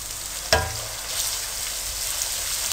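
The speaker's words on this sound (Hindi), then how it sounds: "अब आपने इसमें लहसुन पेस्ट डालना है। बिस्मिल्लाह। इसको मिक्स करें।" Garlic paste frying in a pan as it is mixed in for spicy peas pulao, a sharp clack at the start then a continuous close sizzle with occasional stirring, no voices.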